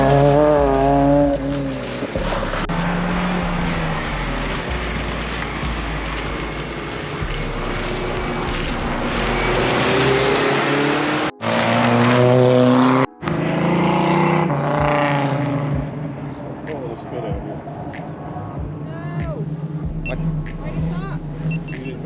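A Liqui Moly Honda S2000 roars through an autocross course, its engine revving hard and rising through gears with brief lifts and tire noise, loud and close throughout, with a short drop in sound midway.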